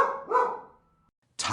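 A single dog bark with a short tail, followed after a brief silence by the start of a second bark, close and clear with no voices, in a Shakespeare audiobook recording of The Two Gentlemen of Verona.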